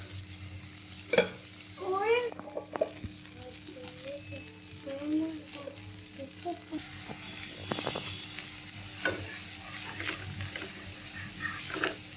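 Wheat dosa batter sizzles and fries on a hot pan, a soft crackling hiss in the background with clinks and scraping, while a voice talks over it.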